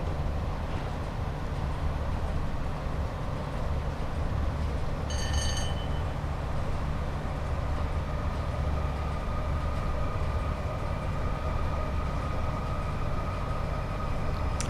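A train in Train Sim World 5 on a London Euston to Glasgow Central run, with a steady low rumble and rolling rail noise throughout, a brief high horn-like tone partway, and no talk.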